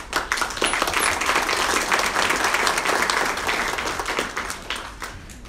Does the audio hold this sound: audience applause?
yes